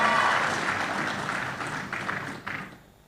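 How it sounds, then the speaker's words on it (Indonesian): An audience at a mass housing mortgage signing event in Serang bursts into applause, a dense, fairly close wash of clapping that fades toward the end. "Ya tepuk tangan tuh."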